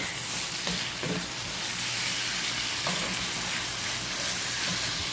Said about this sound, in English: My onion and pepper. They're going in my gravy.